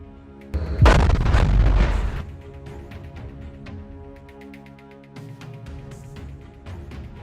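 An attack on an Israeli Merkava tank sets off a loud explosion: one sharp boom followed by a heavy rumbling roar lasting over a second, then a lower lingering rumble and a fainter second thump.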